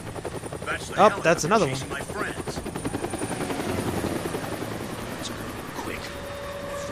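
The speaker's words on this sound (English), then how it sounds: "Helicopter? There it is." Helicopter flying overhead in the zombie game Deadlight, a steady rotor drone building through the scene beneath a man's brief speech.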